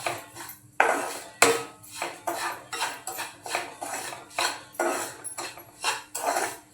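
Roasted semolina being sautéed in ghee in a pan for Malvani-style mango sheera, heard as a steady series of metallic spatula scrapes and clinks against the pan, repeated in a regular rhythm with no talking.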